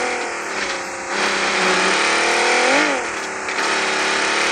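Large, slow vehicle in PUBG Mobile with a loud continuous engine drone, rising into revving surges and easing back, close and steady with no speech over it.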